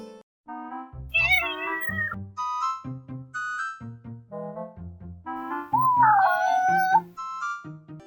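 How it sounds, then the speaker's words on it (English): A cat meows repeatedly in a series of drawn-out, rising and falling cries, close and clear, with two longer wavering calls standing out, and no talking. "here is Alice the cat with an important message"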